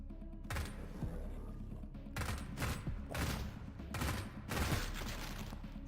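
A Sten gun firing in the video game Cultic, several loud bursts of rapid automatic fire separated by brief pauses over a constant noisy game background.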